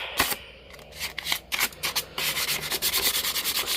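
Abrasive scuffing of a painted surface on a Suzuki Savage hardtail, close dry rasping strokes, first irregular and separate, then a quick steady back-and-forth rhythm.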